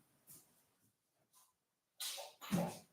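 Two quick sneezes sound close by in a kitchen during enchilada prep, each a sharp burst of breath after a faint inhale, with near silence before them.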